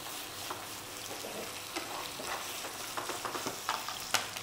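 Steady sizzling and crackling of chicken livers frying in a hot pan, with sharper pops and spatters growing more frequent toward the end.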